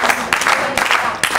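An audience claps for a child contestant on a children's quiz show, with brief bursts of clapping that rise and fall in short waves.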